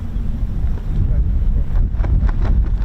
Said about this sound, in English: Goodness me, it is extremely windy.